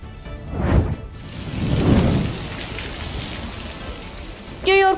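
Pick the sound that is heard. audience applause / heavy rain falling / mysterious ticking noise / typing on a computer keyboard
heavy rain falling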